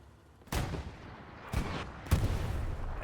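Gunfire in a WWII multiplayer video game battle at Carentan: a few sharp bursts of shots at irregular intervals, each one loud, with a rumbling battlefield background between them.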